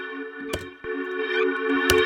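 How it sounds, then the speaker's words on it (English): Reversed sample with a reverb tail in an electronic production, sustained tonal swells with a few sharp percussive hits scattered through, fairly loud and without talk. "So this is how you make reverses."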